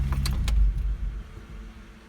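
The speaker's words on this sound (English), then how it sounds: "so car started perfectly fine" A Mazda fitted with a BNR S3 turbo starts up: a couple of sharp clicks and a key jangle come first, then a deep, steady low rumble settles into idle close by.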